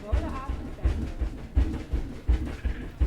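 A train in the Planet Zoo game rolls into the Arctic train station, with a steady rhythmic clickety-clack of wheels over rail joints repeating roughly every half second, moderately loud and close.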